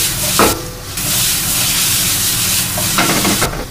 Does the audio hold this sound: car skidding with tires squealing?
no